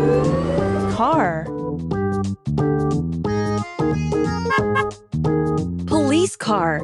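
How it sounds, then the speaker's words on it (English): A toy police car's electronic siren plays a loud, close, stepped warbling pattern of tones with rising sweeps, repeating in short phrases with brief gaps. "Police car."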